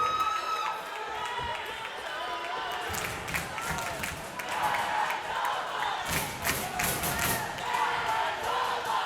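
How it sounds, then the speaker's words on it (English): A crowd at a Canadian national dodgeball quarter-final cheers and shouts in rising bursts, with scattered claps and thuds of play, and a commentator talks over the noise. "You hear the crowd cheering for the Manitobans."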